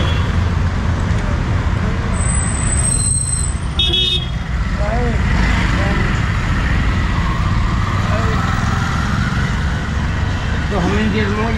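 Dense Delhi street traffic roars close by, a steady engine and road rumble broken by repeated short car and motorbike horn toots, with voices talking over the din.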